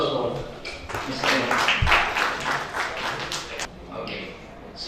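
Audience applause following a talk at a conference or lecture, a steady wash of clapping from many hands lasting several seconds, with some voices speaking over it.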